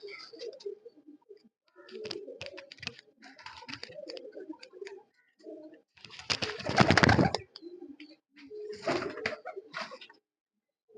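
Racing pigeons from Punjab coo in close, throaty bursts, a run of soft calls interrupted by a louder, noisy flurry in the middle before more cooing returns.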